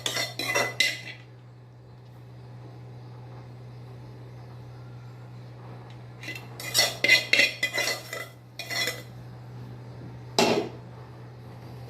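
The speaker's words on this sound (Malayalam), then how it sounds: "നമ്മൾ ആ വറുത്ത റവയെ ഒരു പാത്രത്തിലോട്ട് മാറ്റി" Roasted semolina is scraped and transferred from a pan into a bowl, heard as a few short bursts of metal spoon scraping and clinking against cookware, separated by quiet gaps over a steady low hum.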